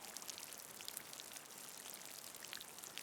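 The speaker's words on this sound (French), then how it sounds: "Une pluie qui tombe doucement." Gentle rain falls steadily, a soft continuous patter of drops with a faint hiss and no voices.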